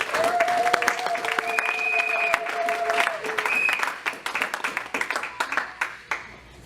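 A church congregation applauds a pastor, the clapping growing from a scattered patter to louder bursts over sustained musical tones, with some voices mixed in.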